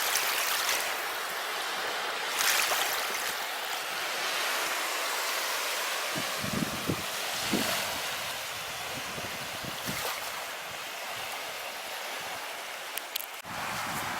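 Gentle lapping and trickling water along the Lake Ladoga shoreline in early spring, a steady broadband wash with soft splashes, close and continuous, no voices.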